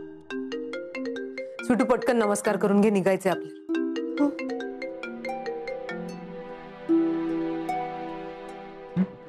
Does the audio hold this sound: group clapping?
no